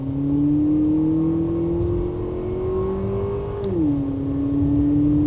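A 2025 Lexus TX 350 Luxury AWD SUV with automatic transmission accelerating hard from a standstill, a steady engine drone rising in pitch as speed builds, then dipping briefly at a gear change, heard from inside the cabin.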